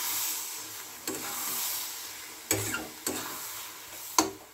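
Green chilli and coriander mixture being stirred in a hot pan, a constant soft sizzle broken by a few sharp scraping strokes of the spoon at irregular intervals, close up with no voices.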